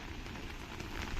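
Steady rain falls on a waterlogged vegetable garden, a dense even patter of drops on leaves and standing water that runs without pause through the short stretch, close and continuous.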